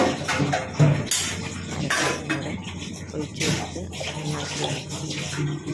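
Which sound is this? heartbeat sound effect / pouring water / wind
pouring water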